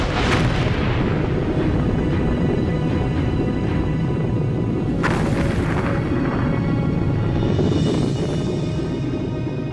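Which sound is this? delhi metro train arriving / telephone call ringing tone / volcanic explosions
volcanic explosions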